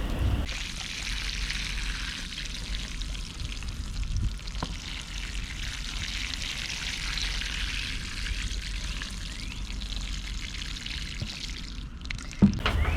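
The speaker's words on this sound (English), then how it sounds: "So let's get this water in here." Warm water poured into a soil mix for hot pepper and dwarf tomato soil blocks, a continuous close hissing pour lasting the whole stretch with a small knock near the end, no talking.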